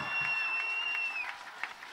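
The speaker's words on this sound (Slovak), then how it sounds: "Ešte raz aplauz, Juraj Slavkovský, dámy a páni." Crowd applauding Slovak hockey player Juraj Slavkovský at a welcome celebration after an Olympic bronze medal, a dense clatter of clapping that fades over two seconds, with faint whistles above it.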